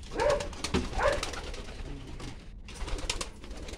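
Pigeons coo in low, repeated throaty bursts during a dove release outdoors, close and fairly loud over a steady rushing background noise.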